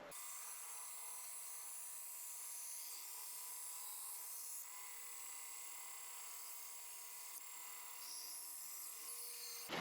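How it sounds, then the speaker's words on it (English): Bandsaw rough-trimming a Kydex knife sheath: a continuous high-pitched whine and cutting hiss, steady and fairly loud, with slight shifts in tone as the plastic is fed through. "What we're going to do is take it back on the bandsaw."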